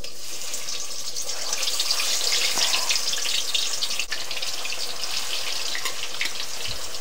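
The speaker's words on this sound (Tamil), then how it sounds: "பெரிய பெரிய மீனை போட்டு பொறிக்கும் போது கொஞ்சம் கொஞ்சம் டீப் ஃப்ரையாகவே நம்ம பண்ணிக்கணும்" Large fish pieces are deep-fried in oil for a fish pickle, giving a loud, continuous bubbling sizzle that holds steady throughout with no talk over it.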